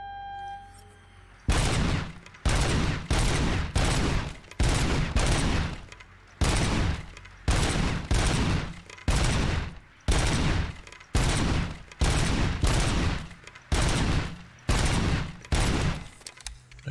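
Rapid bursts of gunfire in the RoboCop: Rogue City video game, about a dozen loud clustered volleys fired in steady succession with short gaps between them, dense and close with no talking.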